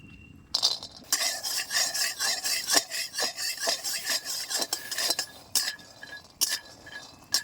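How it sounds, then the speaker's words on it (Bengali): Raw peanuts are dry-roasted in a hot iron wok, a spatula scraping and rattling them around in a steady rhythm of scratchy rubs and clinks, close and alone with no voices. "এবার আমি চীনা বাদামটা সুন্দর করে ভেজে নেব"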